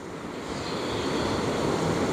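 Boat running through big river rapids, a roaring rush of churning water and engine noise, steady and loud with wind buffeting the microphone, no voices.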